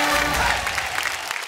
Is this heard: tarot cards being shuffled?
no